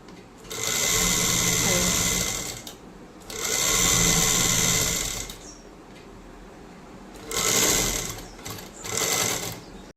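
A newly bought boutique sewing machine stitching in bursts, a fast buzzing whir that starts and stops four times with short pauses between, close and loud, no talking.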